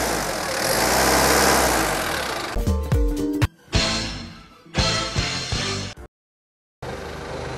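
A Toyota 1.5-ton forklift, imported and with a 3-meter lift, has its engine revved sharply. Close, loud roaring bursts stop and restart, with a brief silent gap near the end.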